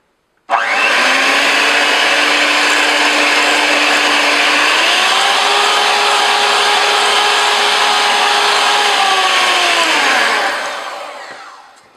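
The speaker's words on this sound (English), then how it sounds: "that is some nicely whipped whipping cream with a hand mixer" An electric hand mixer whips cream with a loud, steady motor whine up close. It runs for about ten seconds, shifts pitch partway through as the speed changes, then winds down and stops.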